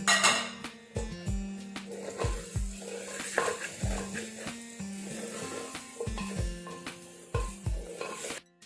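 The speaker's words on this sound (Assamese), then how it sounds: "এই গোটেইখিনি মই আকৌ 5 ছেকেণ্ড সময় ফ্ৰাই কৰিম" Cumin and turmeric powder frying with stirring in a pan for an Assamese chicken curry with taro, repeated scraping strokes and clinks of a utensil against the pan over a steady sizzle.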